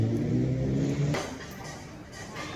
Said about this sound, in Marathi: वाव, किती जुनी विंटेज बाईक आहे ही.